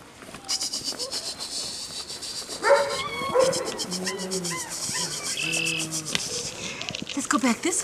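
A young puppy of about five weeks yelps and whimpers in short high cries amid a busy background of insects and birds, with a person calling to it over the sounds.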